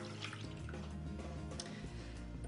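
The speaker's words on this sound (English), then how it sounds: "I'm just gonna pour my milk into the pan." Milk poured from close by into a pan to start a cream infusion for yoghurt panna cotta, a steady wet trickle and splash running for a couple of seconds with no talking.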